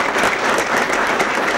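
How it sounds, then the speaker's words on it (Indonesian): Loud, dense applause from a studio audience for two couples on an Indonesian comedy talk show, an even roar of many hands clapping close by. "kita tepuk tangan dulu untuk kedua pasangan"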